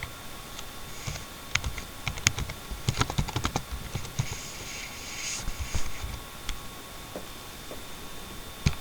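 Someone types on a computer keyboard: irregular clusters of sharp key clicks, with quicker flurries in the middle and scattered single taps near the end.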